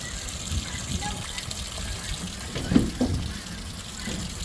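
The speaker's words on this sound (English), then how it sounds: "Is the water pouring out of the bottom?" Water gushing out of the bottom of a tilted water container that had been hosed down, a steady outdoor pour with a brief louder splash midway, heard alone at moderate distance.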